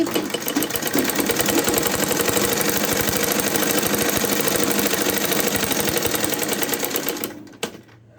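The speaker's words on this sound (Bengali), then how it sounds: "দেখো সব আমি সেলাই করে নিচ্ছি তাড়াতাড়ি করার চেষ্টা করছি" Close, loud sewing machine running a continuous fast rattling stitch across a blouse for about seven seconds before stopping abruptly, with no one speaking.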